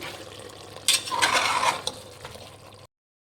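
Chicken and chopped tomatoes are stirred in a pan for Chettinad chicken biryani, giving a soft scraping, sizzling mix that swells for a moment in the middle and then carries on quietly until it cuts off.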